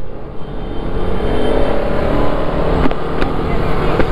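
A Bajaj Pulsar motorcycle engine drones steadily while accelerating in third gear on a street race, loud and close with strong wind rush throughout.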